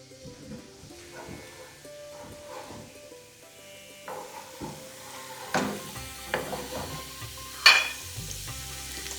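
Saag gosht (lamb and spinach) sizzles steadily in a pan over low-to-medium flame, with occasional scraping and clatter as it is stirred.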